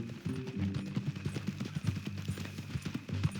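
Horse hooves clip-clop in Red Dead Redemption 2, a steady close rhythm of hoof falls continuing throughout over low ambient rumble.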